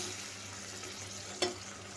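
Onions frying in a pan for pulao, with tomatoes going in, give a steady low sizzle and one sharp brief burst partway through, close and moderately loud with no voices.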